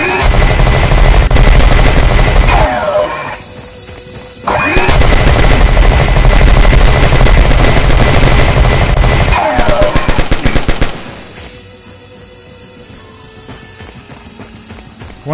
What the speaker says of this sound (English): First, have a listen to the new sounds for our minigun.